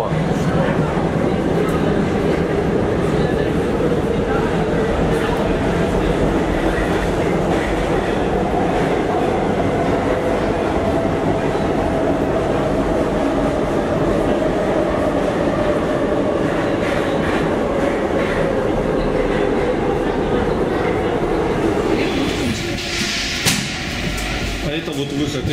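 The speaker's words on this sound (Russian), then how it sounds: "А это вот выход из метро." Inside a Paris metro station, a train rumbles steadily and loudly with clattering wheels, its tone slowly falling as it pulls through. A burst of clatter and squeal comes near the end, and voices are heard under the noise.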